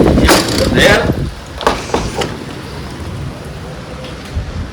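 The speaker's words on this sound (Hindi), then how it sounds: "बारिश आ गई, ठंडा हो जाएगा मेरा कमरा मस्त।" Steady heavy rain pours down close by, a constant hiss with a few louder bursts and knocks early on.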